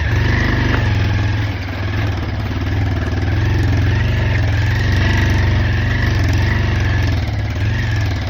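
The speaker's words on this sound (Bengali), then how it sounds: "ওখান থেকে আবার আমাদের হোমস্টেতে ফিরছি ওর বাইকে করে" A motorbike carries riders back to a homestay on hill roads around Sittong, its engine a loud, steady close-up drone that barely changes throughout.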